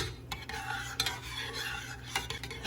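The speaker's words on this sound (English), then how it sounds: "Stir in couscous." A spoon stirs dry couscous in a cooking pot, soft gritty scraping with a few light metallic clinks, quiet and close, no talking.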